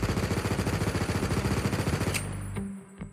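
A gun with no attachments fires in Minecraft with a gun mod, a rapid, steady automatic stream of loud shots that stops abruptly, followed by a couple of faint clicks.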